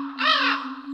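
A single harsh caw from a crow in a dung beetle simulator video game sounds loud and close, lasting under a second over a steady low electronic hum.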